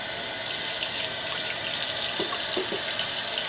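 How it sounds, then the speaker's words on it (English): Water runs steadily from a tap while a cartridge for refilling is handled nearby, a continuous loud hiss of flowing water with a few faint knocks near the end and no talk. "And I'm just going to go ahead and pick up some"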